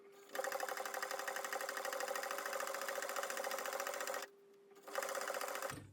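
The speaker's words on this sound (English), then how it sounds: "we're ready to sew now" A sewing machine stitching a quarter-inch seam on Regency pantaloons, a fast steady mechanical whir that runs for about four seconds, pauses briefly, then starts again, close and clear with no talking.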